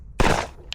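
A single close, loud 10mm pistol shot fired with Double Tap 205gr ammunition, a sharp blast with a short ringing decay, followed by a faint small click.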